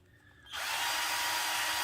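A Feeyoo 12.8V cordless electric drill, set to its lower gear, spins up after a quiet moment into a steady, loud, bright whine that holds evenly to the end.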